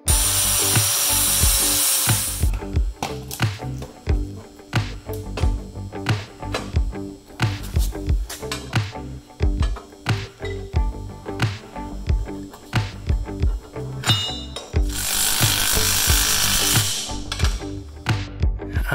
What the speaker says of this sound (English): You have to grind it off a little bit so that's a little bit shorter, because it's too deep to go into that hole.